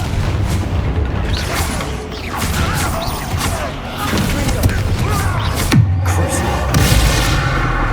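An Incendio fire spell cast in Hogwarts Legacy, heard as booming, crashing bursts over a dense, rumbling game soundscape.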